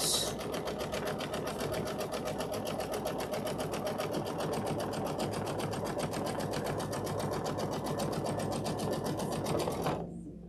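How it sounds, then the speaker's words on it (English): Sewing a long basting stitch, a sewing machine runs in a fast, steady, close-up whir for about ten seconds, then cuts off abruptly; no voices over it. "It's just a basting stitch"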